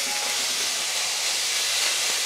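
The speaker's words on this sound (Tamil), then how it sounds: "எல்லாத்தையும் சேர்த்து நல்லா வதக்கி விட்டுக்கலாம்." Vegetables and green chilies sauté in a pan for American chop suey, giving off a steady, close sizzling hiss that continues without pause.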